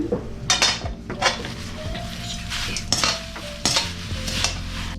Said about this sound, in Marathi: आता मी याला छानपैकी मिक्स करतो